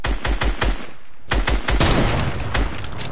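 Rapid automatic gunfire in Fortnite rattles off in two dense bursts split by a brief pause, loud and close, with no voices.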